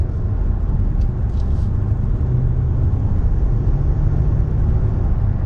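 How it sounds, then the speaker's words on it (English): A Mercedes-Benz S-Class is driven at full throttle, its cabin filled with a steady, subdued low rumble and road whir that stays even in level without any sharp engine roar. "Alright, gonna floor it here a little bit more"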